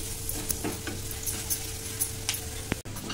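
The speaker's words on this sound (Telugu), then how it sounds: "అలాగే అల్లం మొత్తం అంతా బాగా కలుపుకొని అల్లం వెల్లుల్లి పచ్చివాసన పోయేంత వరకు ఫ్రై చేసుకోవాలి" Crushed garlic and ginger frying in a pan for a prawn curry, a steady close sizzle with soft stirring scrapes and a few light clinks, no voices.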